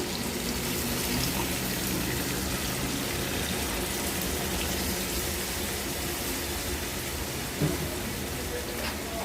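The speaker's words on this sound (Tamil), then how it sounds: "இதில் ஒரு நெல்லிக்காய் சைஸ் புளியை எடுத்து கரைச்சி அந்த தண்ணியை விட்டுக்கலாம்" Tamarind water poured into a pan of cooking tomato pickle, a steady wet pouring and splashing rush that continues evenly throughout, with one brief louder splash near the end.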